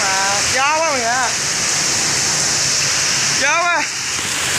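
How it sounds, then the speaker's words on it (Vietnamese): Heavy rain pours down with strong wind in Saigon, a dense, steady roaring wash close by that never lets up, while a person talks over it in two short bursts. "Sài Gòn mưa lớn lắm mọi người"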